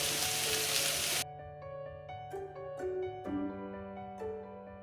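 Spring onion and half a lime's juice go into a pan of frying rice: a loud hiss of sizzling fills the first second, then settles into a steady lower sizzle with light stirring under a faint background tone.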